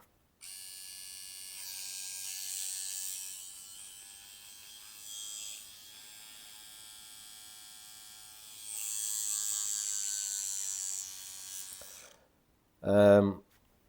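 A Neuma 5 Flex tattoo machine runs with a loud, steady high-pitched buzz for several seconds, easing in level partway through before stopping, followed by a short burst of speech.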